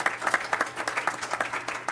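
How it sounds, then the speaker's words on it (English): Audience at a medical forum gives a short round of applause, a modest, uneven patter of clapping from a small crowd lasting about two seconds. "So a round of applause for her"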